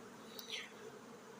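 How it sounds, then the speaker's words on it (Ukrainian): A faint, steady buzz of angry bees hums throughout, with a brief brighter whine as one flies close, heard alone without voices. "ще продовжують злі бджоли літати і жалити все на своєму шляху"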